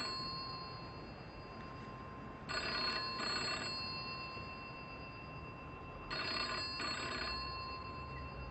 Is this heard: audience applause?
no